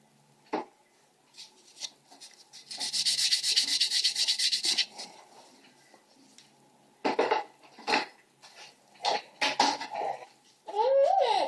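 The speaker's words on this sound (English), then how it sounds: "then you're going to buff it with a 180 grit" A fingernail is buffed with a 180 grit buffer, giving bursts of close, scratchy rubbing: a long continuous stretch early on, then several shorter strokes with quiet pauses between them.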